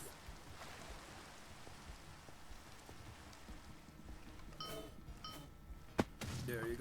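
Game rain in Wynncraft: a soft, steady patter runs throughout, with a few louder clicks and taps toward the end and faint talk underneath.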